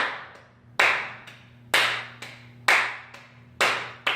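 Hand claps keep a steady rhythm in 3/4 time, with loud, hard claps on the quarter-note beats and softer claps between them, all close and alone.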